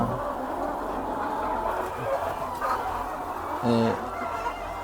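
Chickens at a breeding farm cluck steadily around nesting boxes where hens are laying, a dense flock murmur with one louder close call near the end.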